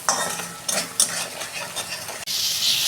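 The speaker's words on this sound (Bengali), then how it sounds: "ভালো করে আমি মশলাটাকে 2 মিনিট কষাবো।" Spice masala of turmeric and chili powder frying in a pan before fish is added, with a spoon scraping and stirring in repeated close strokes over a steady sizzle, ending in a brighter hiss.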